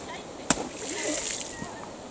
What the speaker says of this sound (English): she can splash the puddle